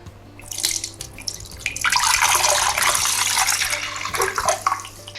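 Coconut water, just released from a coconut hacked open with a cleaver, pours through a strainer in a home kitchen, a steady close splashing trickle that swells into a fuller gush midway and keeps running, with no talking.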